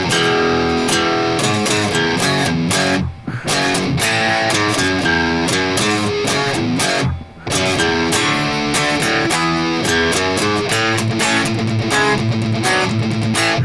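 Overdriven electric guitar plays the closing section of the Christmas carol Twelve Days of Christmas, a dense continuous passage with two brief pauses, loud and close with no voices.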